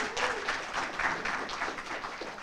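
An audience at a spring graduate stole ceremony applauds staff members, giving a dense, steady patter of many hands clapping at moderate volume for over two seconds.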